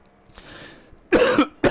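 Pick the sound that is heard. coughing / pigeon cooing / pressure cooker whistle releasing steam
coughing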